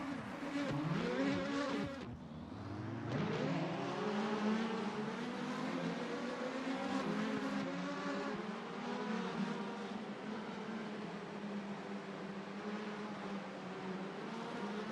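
Indy Lights race cars at the start of a sim race on the Texas oval, several engines rising in pitch together in a loud, layered pack whine that holds steady and close.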